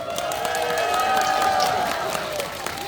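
Audience applause and cheering at a grape festival opening concert, a dense sustained crowd roar of clapping with a faint tonal stage sound underneath.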